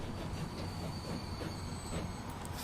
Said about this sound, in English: Gosh, they're very noisy, these trains